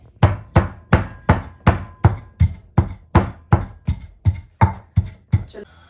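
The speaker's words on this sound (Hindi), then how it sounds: "सौंफ, सूखा धनिया और ज़ीरा और काली मिर्च, वो इसमें अब मैं पीस रही हूँ इलादा से।" A pestle pounds fennel, coriander, cumin and black pepper in a steady rhythm of about fourteen sharp, close thuds, evenly spaced, with no talking.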